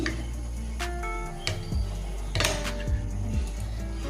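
Knife cutting a block of soap base on a hard surface while making homemade papaya soap gives a few sharp clinks and clacks, spaced irregularly, close and fairly quiet against steady low background hum.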